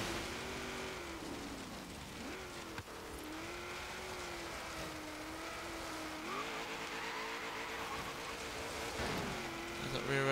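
A 1972 Ford Falcon XA GT-HO in Forza Horizon on an autocross course, its engine droning steadily as the tires squeal and slide through corners, with the pitch wavering under load.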